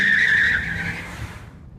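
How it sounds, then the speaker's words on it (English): A sharp, high squeal of tires on concrete cuts in loudly and then fades out over under two seconds, with a low rumble underneath. "Another sound followed, rubber squealing against concrete."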